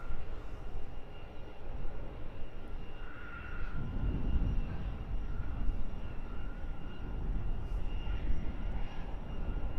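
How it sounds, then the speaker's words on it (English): An easyJet Airbus A320neo turns to line up on the runway at Luton airport, its jet engines producing a continuous, moderately distant broadband roar that holds steady throughout. "EasyJet 2335, destination Malaga, this A320neo, turning to line up for a full-length departure."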